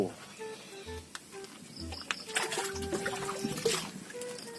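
Broth is poured into a pot of boiled bananas in a home kitchen, a soft trickling splash that swells in the second half, faint beneath quiet background sounds.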